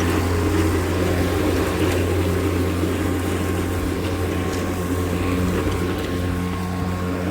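A Greenworks 60V 22-inch self-propelled electric lawn mower does a maintenance cut on grass, producing a steady, loud, close motor drone that holds evenly throughout with no talking.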